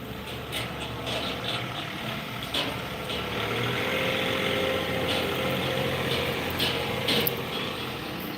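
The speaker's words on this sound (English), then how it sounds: "here comes the tractor" A John Deere tractor engine approaching outdoors while pine tree debris is moved, a steady mid-pitched rumble holding at a fairly even loudness with faint higher clanks throughout.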